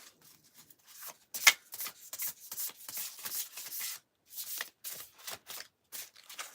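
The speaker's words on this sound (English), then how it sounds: "Shuffle, shuffle, shuffle." Tarot cards riffle and slide in quick bursts of shuffling, close and soft, with brief gaps between passes.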